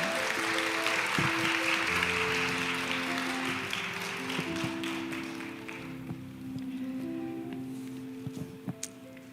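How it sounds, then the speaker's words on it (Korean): Church congregation clapping during a Wednesday morning women's worship service, a broad patter of applause that gradually fades, with sustained organ-like tones underneath and a few sharp isolated claps near the end. "우리 박은영 목사님 나오실 때 정말 감사해 하나님께 영광의 박수 보냈으면 좋겠습니다."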